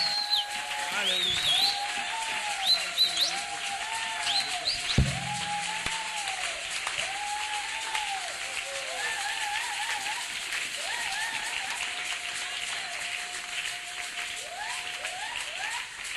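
A church congregation claps and cheers to welcome the pastor. The applause is soft and spread out, with a voice carrying over it throughout.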